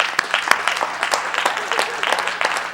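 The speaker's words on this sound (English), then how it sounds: "give Mr. Yahuwah a hand clap and give it up." Hand clapping from a small group during a livestreamed worship gathering, in uneven, sharp claps with irregular rhythm, mixed with voices calling out.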